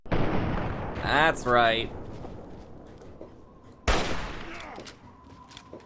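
Gunfire in the video game Fallout 3: a rattling volley of shots followed later by another sharp blast, each trailing off, with a voice speaking briefly between them.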